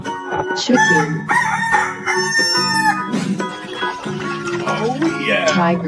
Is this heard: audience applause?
no